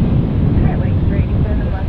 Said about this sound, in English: JetBlue makes its way up and over the Juliet Bridge.